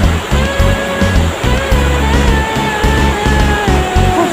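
Strong ocean waves roll and surge steadily at close range, a continuous loud wash of surf with rhythmic low swells, with no talking over it.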